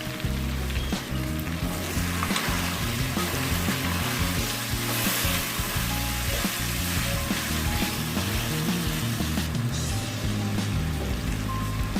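Cut tomatoes sizzle in a beef karahi pan, a loud, continuous frying hiss with occasional stirring clatter and no voices.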